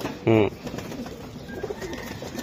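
A racing pigeon, a club-raced bird, lets out a single short, throaty coo up close, followed by quiet room murmur.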